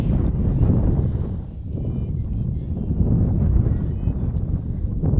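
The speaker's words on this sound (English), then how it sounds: "Another windy afternoon here in Abington. 52 degrees, strong gust of wind." A strong gust of wind at an outdoor softball game rumbles and buffets the microphone, a low roaring surge that dips briefly and then swells again.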